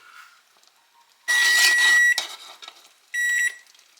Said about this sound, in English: I'm going to set a timer for 3 minutes.